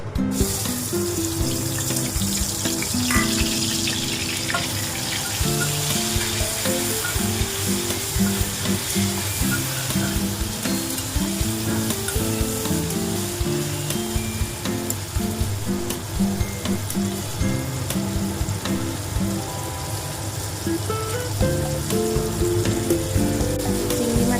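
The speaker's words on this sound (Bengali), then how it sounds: "সর্ষের তেল গরম হয়ে গেছে আমি এবার কটা চিংড়ি মাছ নিয়েছি চিংড়ি মাছটা ভেজে নেব" Prawns fry in hot mustard oil with a loud, continuous close sizzle and crackle that holds steady without any talking.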